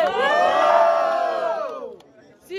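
A crowd at a Brazilian freestyle rap battle roars, cheers and shouts together in one loud, close burst that swells and then fades after about two seconds.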